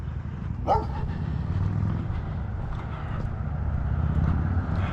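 A dog gives one sharp bark early on, fairly close, heard outdoors during an afternoon walk with steady background noise and a low rumble of passing traffic.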